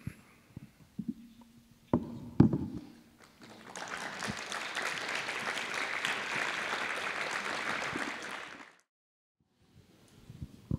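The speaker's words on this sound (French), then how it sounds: "merci pour les applaudissements" An audience at a French cinema lesson breaks into sustained applause before a film screening, clapping steadily for several seconds after a few scattered taps and handling noises, then stopping abruptly into near silence.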